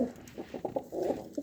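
Lakha pigeons at a pigeon farm give a short run of close, soft, rhythmic cooing pulses.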